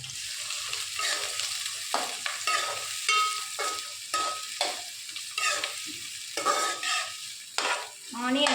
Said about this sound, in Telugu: ఇప్పుడు మనం ఆనియన్స్ వేసేసుకుందాం